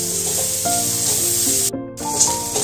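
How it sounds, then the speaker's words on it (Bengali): Onions frying in oil in a pan, a steady close sizzle that briefly cuts out partway, with faint tonal background sounds and no one speaking. "পেঁয়াজগুলো একটু লাল লাল করেই ভেজে নেওয়া হচ্ছে, একদমই লাল লাল"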